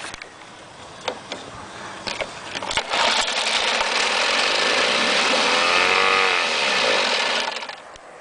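A Sears Ted Williams 7.5 HP outboard motor, with carb cleaner sprayed into the carburetor, sputters and catches, then runs loudly and revs up and down for several seconds before easing off, heard close and alone.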